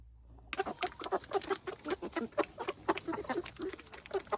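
Hens clucking inside a new backyard chicken coop at breakfast feeding time, a busy stream of short repeated clucks and squawks from several birds close by, with no talk.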